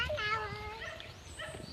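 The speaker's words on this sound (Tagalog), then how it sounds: "May aso." A dog on a farm in Davao City gives a few short, high yips and whining barks at close range, with people's voices around it.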